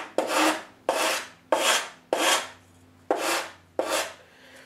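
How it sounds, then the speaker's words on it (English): Hand-sanding the edge of a fiberglass glider wing under repair: six distinct rasping strokes in a steady rhythm, close and clear, each a broad scratchy rub with short pauses between, no talking. "Give it a nice little sand like that, and you can see it comes right off."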